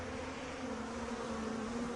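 A dense swarm of flies buzzes steadily at close range, forming an unbroken drone with no other sounds.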